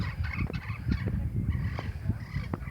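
A rooster makes a quick run of short, clucking calls close by, over a low rumbling background.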